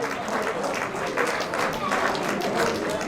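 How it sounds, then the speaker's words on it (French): Crowd applause at a trail running race prize ceremony, a dense, even patter of clapping at moderate distance lasting a few seconds without pause. "Alors, on va les applaudir sur les trois maintenant."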